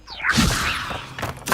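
A Levioso spell is cast in the Hogwarts Legacy video game, making a loud, sweeping magical whoosh with thumping, whip-like accents, followed by a second shorter swish near the end.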